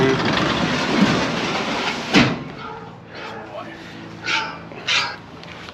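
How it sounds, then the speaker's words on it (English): A dog barks several times in short, separate bursts, one sharp bark early on and a few more spaced out later, heard at a moderate distance after a stretch of noisy background. "you got a dog here?"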